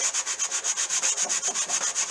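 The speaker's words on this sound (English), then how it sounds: "See if I can buff out the hardware with just the sand sponge." A Park tool box being sanded by hand with a sanding sponge: quick, even back-and-forth rasping strokes, about eight per second, close and steady throughout with no talk.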